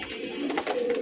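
A Giribaz pigeon coos in a short, close throaty burst, one rolling phrase rising and falling over about a second, clear and unaccompanied.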